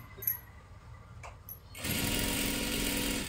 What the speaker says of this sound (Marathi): एकदम कडेकडेला शिलाई मारून घ्या आणि सावकाश आणि सविस्तर करून घ्यायचं आहे